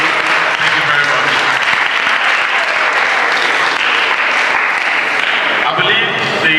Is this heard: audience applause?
yes